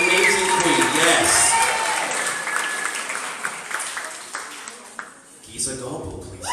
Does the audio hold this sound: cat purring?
no